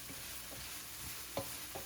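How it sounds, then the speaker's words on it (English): Chicken frying in a pan gives a steady low sizzle throughout, with a few soft stirring scrapes spaced across it and no voices. "Keep on frying that goodness."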